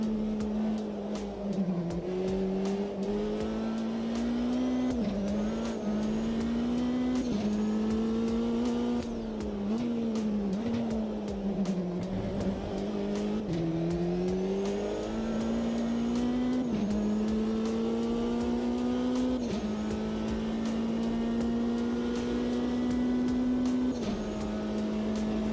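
Race car engine in a sim racing video game, a sustained high droning note that rises and falls with gear changes and throttle, loud and continuous with brief dips where the car slows for corners.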